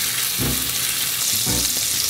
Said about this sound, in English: Now that we've got a sear, flip it over.